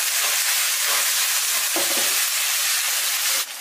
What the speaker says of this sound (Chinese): 给它翻炒几下